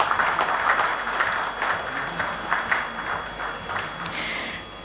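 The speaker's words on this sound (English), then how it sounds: "Can we have a round of applause to welcome him?" An audience applauds at the Smart Green Awards 2016 ceremony as an architect is welcomed on stage, with steady, crowded clapping that eases slightly toward the end.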